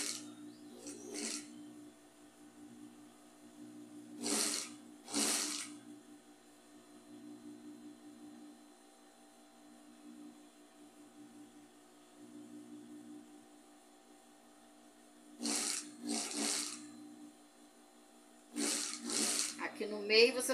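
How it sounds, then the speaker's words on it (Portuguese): Sewing machine stitching fabric scraps for a rug, with short bursts of rapid mechanical whirring separated by quieter stretches of low hum, close and moderate in level. "coloco em cima e vou costurando"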